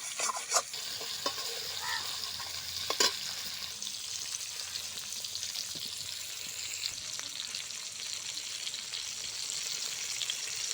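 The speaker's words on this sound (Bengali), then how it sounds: "এখানে এটা লাল লাল করে ভেজে দেবো" Four pieces of tengra fish frying in oil in a kadai until red and crisp, a steady soft sizzle with occasional sharper crackles and stirring clinks, no talking.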